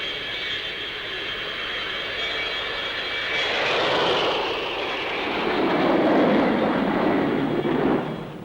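Folland Gnat, a single-seat lightweight jet fighter, passes at the Farnborough Airshow, its engine a loud, sustained roar with a high whine that swells and shifts in pitch as it flies by, with no voices.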